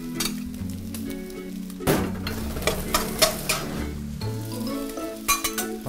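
Fried rice being stir-fried with egg in a pan: a steady close sizzle with scraping stirs and occasional metallic clinks of a utensil against the pan.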